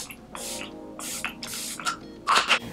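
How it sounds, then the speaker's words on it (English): Sephora setting spray misted onto a face in a run of short hissing bursts, close and fairly quiet, the last bursts the strongest. "I'm just gonna set it one more time with the Sephora setting spray just for extra"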